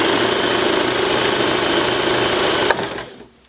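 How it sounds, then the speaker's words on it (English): A sewing machine stitches through two layers of cotton at a fast, even drone, loud and close, then abruptly stops and the hum quickly fades out as the needle comes to rest. "you control the speed at which the machine is stitching simply by how much pressure you apply to the foot pedal"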